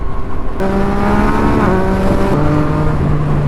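Two Porsche cars driving along a street at night, a steady loud engine drone with tonal exhaust notes that shift pitch as they pull away, continuous and close without speech.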